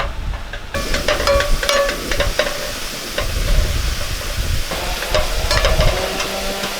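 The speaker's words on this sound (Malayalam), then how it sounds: "നമ്മളിത് വറുത്തെടുക്കാൻ ഒരുപാട് കരിഞ്ഞും പോകല്ലേ" Onions deep-frying in coconut oil for chicken chukka, a loud continuous close sizzle and crackle with occasional stirring scrapes, starting abruptly after a brief quiet moment.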